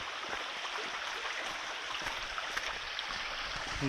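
Floodwater rushes down a town street in Kaniv in a continuous, even roar of flowing water, fairly close and with no talking.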